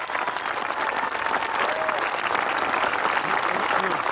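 A graduation audience at Alameda High School's 2022 commencement gives the school staff a large round of applause: dense, steady clapping from a big crowd that holds at an even level throughout.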